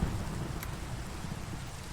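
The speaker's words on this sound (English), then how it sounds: "It is daytime and raining," Rain in Minecraft, a steady close hiss of falling rain with a low rumbling undertone, continuous and fairly loud throughout the short stretch.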